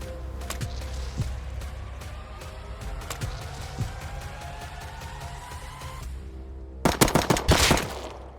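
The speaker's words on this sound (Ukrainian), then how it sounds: "Розпочалася запекла стрілянина." Gunfire in the survival video game Rust: scattered sharp shots and short bursts through the first six seconds over a low background hum, then a loud rapid volley near the end.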